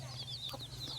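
Free-range country hens cluck softly with chicks nearby in a village poultry yard, a few faint close clucks over a low steady background hum.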